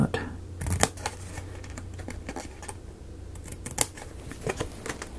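Scissors cutting a piece of scrap cardboard during a miniature dollhouse build, giving several crisp, close snips spread across a few seconds over a low background hum.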